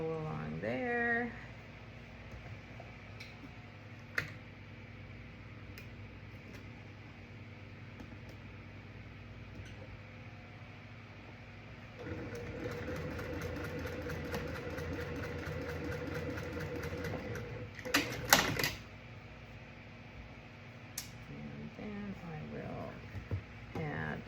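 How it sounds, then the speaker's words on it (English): A sewing machine stitches quilting fabric along a diagonal seam, a faint steady whir that grows louder midway, with someone talking over it. "mark my spot, and sew along the diagonal there."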